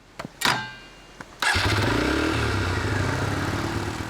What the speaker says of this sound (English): Sometimes I ride my motorbike.